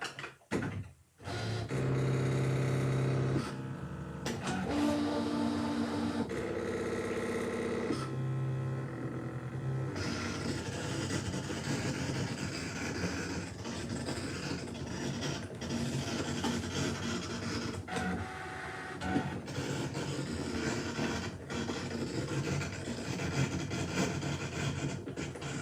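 A ScanNCut cutting machine runs through a cut, giving a steady mechanical whirring and motor drone that lasts throughout, with shifts in pitch and texture as the blade carriage moves.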